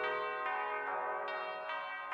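Church bells ring out in a string of clear, resonant strikes about every half second, each tone ringing on and overlapping the next, moderately loud with no voices over them.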